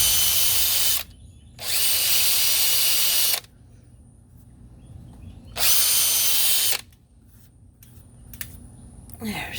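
A power tool sands a damaged Redline wheel in two loud, steady bursts of harsh hissing whir, each lasting a couple of seconds and separated by quieter pauses.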